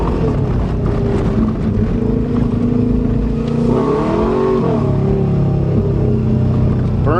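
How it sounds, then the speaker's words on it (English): A Subaru Legacy accelerates hard with its tires spinning, its engine a loud, close, continuous drone that rises briefly in pitch midway. "Burns the tires every time I hit the gas."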